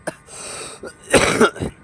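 A person with a mild fever and a severe cough lets out several harsh, close coughs and throat-clearing bursts in quick succession, with short breaths between them.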